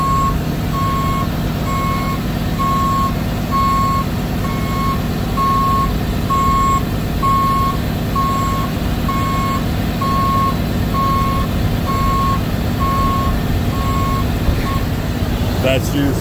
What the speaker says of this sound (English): Very, very clean truck. Sounds great. Runs amazing.